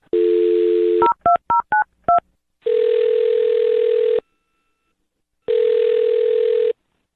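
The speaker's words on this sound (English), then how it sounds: "I'll dial his phone number right now, okay?" Dial tone followed by a rapid sequence of touch-tone keypad beeps, then two long ringing tones with a pause between them, clear and close.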